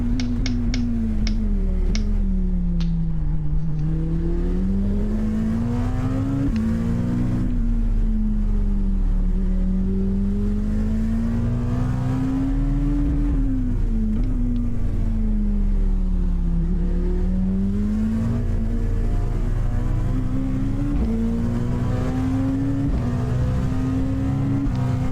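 Several LMP1 prototype race cars in the iRacing video game, with a continuous loud engine drone that rises and falls steadily through gear changes throughout, alone with no talk.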